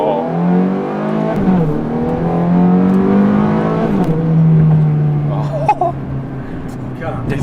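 A Ferrari F430 engine revs and pulls through rising and falling tones while driving, a steady loud drone heard from inside with people talking over it.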